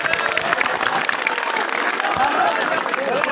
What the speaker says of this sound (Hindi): एक बार ताली जोरदार